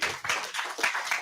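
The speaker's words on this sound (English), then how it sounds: "Everyone get a big round of applause." Short burst of clapping from a small room audience at an energy investment panel discussion, a few loose, close claps in an uneven rhythm.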